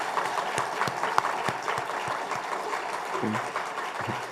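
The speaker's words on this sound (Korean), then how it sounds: "수고한 분들 우리 너무 애썼다고 우리 박수하겠습니다" A church congregation applauds during a Sunday service, a sustained room-filling round of clapping with a few sharper individual claps standing out and a low voice murmuring near the end.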